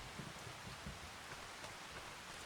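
Rain falls steadily in Farming Simulator 25, a faint, even hiss of drops with soft low patters, heard on its own with no talking.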